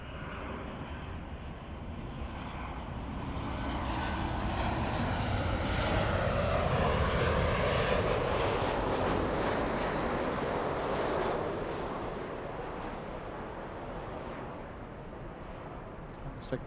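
A jet airliner bound for Honolulu rolls past at LAX, a broad roaring engine wash that swells to a peak mid-way and then slowly fades, heard from a nearby airport lounge.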